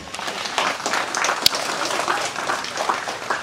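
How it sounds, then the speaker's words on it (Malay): Applause from an audience at a political party anniversary gathering, a steady wash of crowd clapping with scattered louder claps and background voices mixed in. "Jadi satu tepukan untuk beliau."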